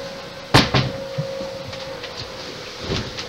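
A door aboard a sailing boat knocked open or shut, giving a sharp close thud followed by a few softer knocks and rattles, with a faint steady hum underneath.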